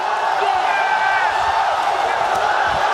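A large esports tournament crowd at an LCS 2013 All-Star event roars continuously in a big arena, with sustained cheering and whoops filling the space while a commentator talks over it.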